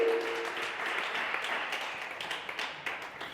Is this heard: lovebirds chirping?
no